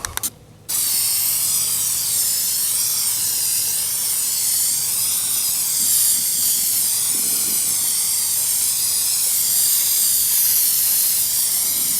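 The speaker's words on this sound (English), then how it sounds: "I'm going to start off by priming it with something Rust-Oleum calls rust reformer" An aerosol can of Rust-Oleum rust reformer sprays primer onto an old metal wheelbarrow in a loud, close, continuous hiss that holds for over ten seconds after a brief start.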